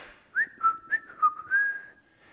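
A person whistles in imitation of an oriole's song: several short, bright rising and falling notes in a quick phrase, ending in a held tone, close and clear over near silence.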